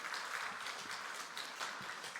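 Students, professors and staff at a university chapel service give a round of encouraging applause, a faint, steady wash of many hands clapping together without a break.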